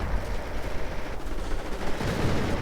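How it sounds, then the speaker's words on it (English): Artillery fire rumbles in a World War II strategy video game, a dense, loud, continuous roll of blasts and gunfire with no talking. "And more artillery on that flak."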